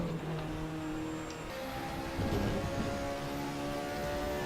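Race car engine from the Raceroom sim, GTR3 and LMP2 class cars at Paul Ricard, holding a steady high-pitched drone at full throttle through a corner, loud and continuous with faint other cars around it.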